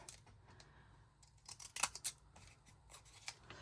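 Scissors trimming a paper stamp, a few soft snips with one sharper cut near the middle, faint and close in a quiet room.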